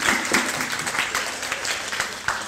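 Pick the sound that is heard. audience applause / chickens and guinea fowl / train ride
audience applause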